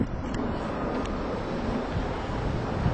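High wind blowing hard outdoors in Las Vegas, Nevada, a steady loud rushing roar buffeting the microphone throughout, with no voices.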